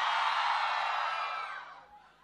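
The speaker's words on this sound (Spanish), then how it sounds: "¿Dónde están gritando más fuerte?" A concert crowd at an outdoor show roars with shouting and cheering, loud and sustained at first, then fading gradually toward the end.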